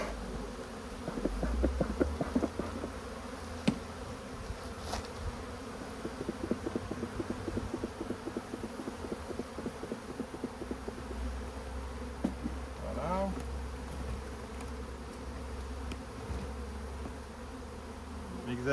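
Honeybees buzzing steadily around open hives during an October inspection, a dense close swarm hum with individual bees passing near, faint voices occasionally in the background.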